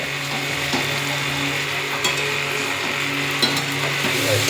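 Onion with ginger paste and spice paste frying in a pan, a continuous close, fairly loud sizzle broken by a few soft scrapes of stirring.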